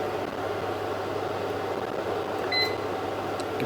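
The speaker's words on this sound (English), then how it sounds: "So I'm going to pop this in the microwave" A microwave oven heating a bowl of oats runs with a steady, even hum throughout, and near the end a brief electronic tone sounds, with no talking.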